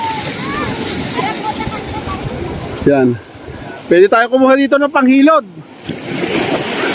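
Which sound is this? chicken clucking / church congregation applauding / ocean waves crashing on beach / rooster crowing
ocean waves crashing on beach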